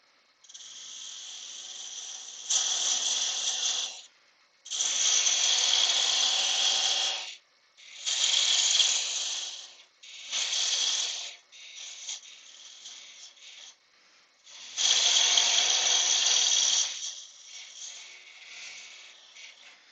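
A parting tool cutting into a spinning wood blank on a lathe, giving a harsh hissing scrape in repeated bursts of several seconds each with short quiet gaps, close and steady.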